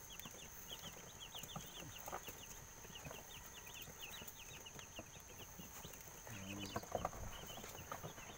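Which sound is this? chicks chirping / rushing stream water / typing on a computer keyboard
chicks chirping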